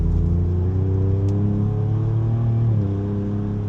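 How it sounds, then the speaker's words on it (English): A Ford Ranger Raptor's engine in sport mode holds a steady, high idle hum with a deep rumble and drone, the revs hanging up before easing slightly near the end. "in the Ranger Raptor sport mode, really hangs the revs up."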